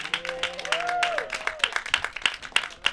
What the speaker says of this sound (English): Clap it up one more time for Mr. Roger Dad.